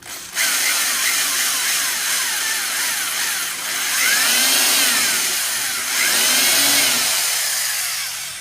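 A power drill bores into stucco, loud and close, its motor whine rising and falling as pressure bears down on the bit through several pulses.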